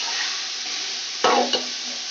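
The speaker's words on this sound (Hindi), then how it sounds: "अब हम इसमें गाजर शामिल करेंगे। इसको भी हमने हल्का सा फ्राई करना है।" Carrots and capsicum frying with chicken in a pan give off a steady sizzle, broken near the end by a couple of sharp stirring scrapes. The sound is close, with no voices.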